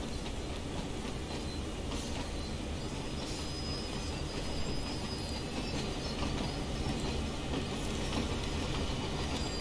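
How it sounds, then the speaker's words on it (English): Freight train in the Train Sim World game rolling backwards on the Clinchfield Railroad, a loud steady rumble of wheels on rails with high metallic squeals and clicks throughout, no talk. "We have to take the train further backwards."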